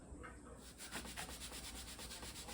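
A burnt stove top scrubbed with bicarb soda produces rhythmic, close rubbing strokes, a steady back-and-forth abrasive swish repeating several times a second at low volume.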